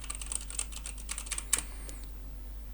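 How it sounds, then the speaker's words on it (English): Quick, uneven keyboard typing, crisp key clicks close by with a couple of louder taps, picked up through an MSI Maestro 300 USB gaming headset microphone over a steady low hum, then quiet. "we can try things like typing noises"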